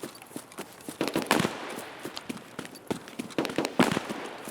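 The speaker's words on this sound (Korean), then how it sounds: "싸우는 총소리가 둘이야" Distant gunfire from a firefight in the video game Escape from Tarkov: scattered sharp cracks and short bursts, irregular and fairly faint, with no talking.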